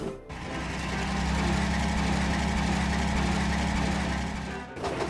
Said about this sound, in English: Philip raced onto the junction at full speed.